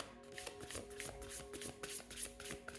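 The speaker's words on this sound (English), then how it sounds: "I already pre-shuffled, that is why I'm taking the cards." Tarot cards shuffled by hand in a quick, continuous run of soft riffling and papery flicks, faint and close, with no talking.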